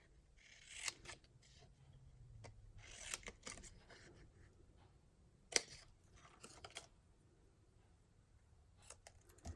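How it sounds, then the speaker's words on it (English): Paper snips cut out a stamped paper shape in a quiet crafting session: several short, close snipping and rustling sounds spaced out over soft background noise, without talk. "I'm going to take my paper snips and cut out the boo."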